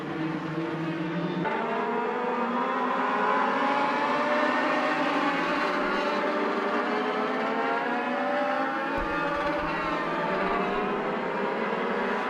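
Race cars circling Charlotte Motor Speedway in a summer shootout event, several engines droning and rising in pitch together at steady high volume, with layered revving as the pack runs off a turn and down the track.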